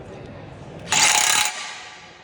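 A Makita 40V impact wrench runs in forward fastening mode, giving a short, loud burst of rapid impacting hammering that lasts about half a second before stopping, with quieter motor whir around it.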